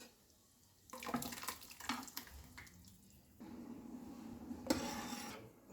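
Sambar is poured over a hot tempering and stirred in, giving bursts of liquid splashing and scraping, then a steadier sizzling wash with one sharp clatter near the end.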